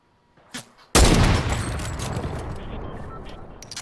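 Gunfire in the Fortnite battle royale game: a sudden loud burst of rapid shots erupts and rolls into a sustained, dense volley that gradually tapers, preceded by a short faint pop.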